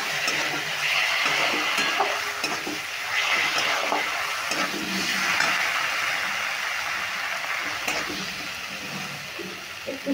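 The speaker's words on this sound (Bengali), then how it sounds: "এবার এই মশলাগুলো একটু ভালো করে কষিয়ে নেব।" Ground coriander and cumin powder sautéing in a pan while cooking, a steady close sizzle with faint stirring scrapes running throughout, no talk.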